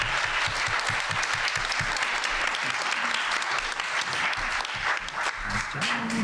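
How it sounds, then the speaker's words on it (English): Audience applause at the close of a music-industry panel at an indie conference, steady dense clapping from a room full of people continuing throughout, with a few low voices murmuring underneath. "Can we get a round of applause for our speakers,"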